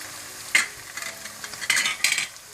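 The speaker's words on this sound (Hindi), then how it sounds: "अच्छी तरह से मिक्स करके इसको भून लें" Spices and meat for palak gosht stirred and frying in a pot, a soft sizzle under repeated scraping strokes of a spoon against the metal, several bright clattering bursts spaced irregularly; no voices.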